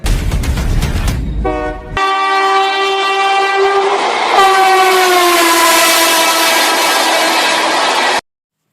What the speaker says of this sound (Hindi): सिलेक्शन स्पेशल एग्जाम एक्सप्रेस थोड़ी ही देर में नंबर 4 पर आएगी